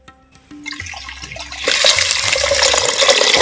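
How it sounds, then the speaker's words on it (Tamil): Water is poured into a clay pot for cooking finger-millet porridge: a few light handling knocks, then a loud, steady splashing pour that runs on close to the microphone. "மண் சட்டி வச்சுக்கிறேன் தேவையான அளவு தண்ணி ஊற்றிக்கிறேன்"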